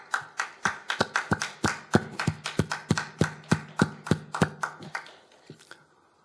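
A church congregation at a Korean funeral service claps in unison, producing about eighteen sharp, evenly spaced claps. The claps soften and thin out toward the end.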